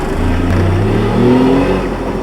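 A green 1957 DKW 3=6 car labors on a hill in Hamburg, its engine revving loudly and steadily from close by, the pitch rising and falling over a couple of seconds.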